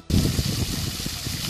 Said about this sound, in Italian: Giochi d'acqua